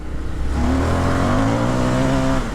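An Indian FTR 1200 motorcycle engine revs hard while being ridden, a loud continuous roar with rising and falling pitch as it accelerates, steady wind noise underneath.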